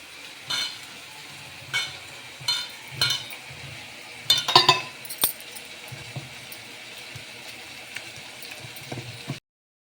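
Gram flour batter with cooking soda and salt is mixed for Rayalaseema-style mirchi bajji, giving soft, wet stirring strokes and occasional sharper clinks against the bowl, close up with no talking.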